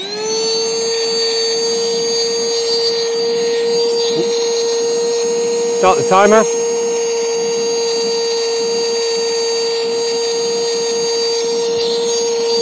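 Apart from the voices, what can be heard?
Mistral 12V electric paddleboard pump running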